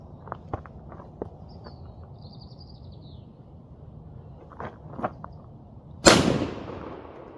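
A single sharp shotgun blast from a hunter firing at a passing wood pigeon bursts out near the end, loud and close, after a stretch of quiet outdoor ambience with faint bird calls and light movement.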